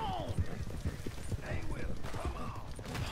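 A horse gallops in the video game Red Dead Redemption 2, its hooves drumming in a fast, steady clip-clop throughout. Voices talk over the hoofbeats.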